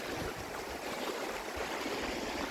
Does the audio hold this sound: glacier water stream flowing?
yes